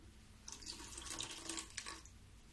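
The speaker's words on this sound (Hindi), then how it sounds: "अब इसमें जो पानी है थोड़ी सा और मैं डालूंगी।" Water poured into besan (gram flour) batter for motichoor laddoos makes a soft, faint splashing trickle lasting a couple of seconds close by.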